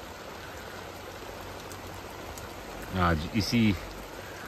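Steady rain falls in a constant hiss throughout, moderately loud and even, with a brief spoken voice near the end over the downpour.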